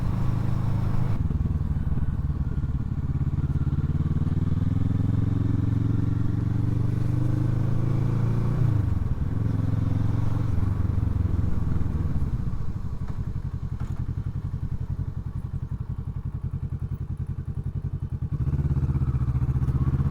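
A 2007 Kawasaki ER6N parallel-twin motorcycle rides through town, its engine droning close up, rising and falling in pitch as it accelerates and slows, with some wind and road clatter.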